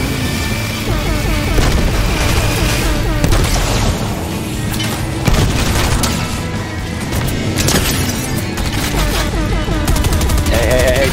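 Heavy gunfire pours into a vehicle, the Battle Bus, in the video game Fortnite: dense rapid shots and booming impacts run almost nonstop, with players' voices mixed in.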